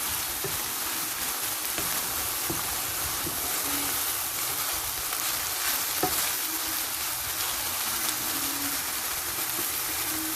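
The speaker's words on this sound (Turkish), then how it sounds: "Kıymalarını biraz böyle kavurdum. Şimdi soğanlarıyla birleştireceğim." Minced meat fries with onions in a pan, a continuous close sizzle and crackle with occasional stirring scrapes, steady throughout and without voices.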